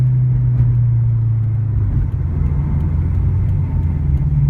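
A steady, loud turbocharged engine of a Toyota 86, Scion FR-S or Subaru BRZ with a JDL UEL turbo kit droning at partial throttle, a deep rumbling hum that holds even with only a slight dip in pitch.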